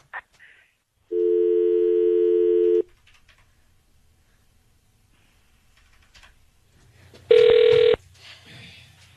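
A telephone ringback tone sounds twice while a dropped call is redialed: a steady buzzing ring of about two seconds, a pause, then a shorter, louder ring, clear and close with no talk over it.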